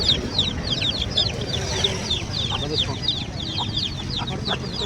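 Hens and roosters cluck repeatedly at a busy poultry market where chicks and fighting-breed birds are traded, steady bird calls over continuous low crowd murmur and handling noise.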